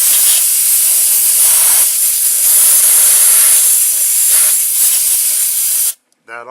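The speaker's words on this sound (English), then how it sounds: "if you have compressed air, which is always nice to have if you do this type of work," Compressed air blasting through the drier fitting on a 1997 Lincoln Town Car A/C system, a loud, steady broadband hiss held for about six seconds before cutting off abruptly.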